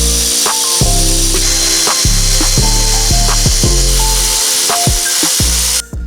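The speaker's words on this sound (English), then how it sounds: "remove the bolts off the valve cover, and then we can take it off" A ratchet turns a T30 Torx bit to loosen valve cover bolts on a Mercedes M156 engine, with repeated quick clicking strokes and short pauses, loud and close.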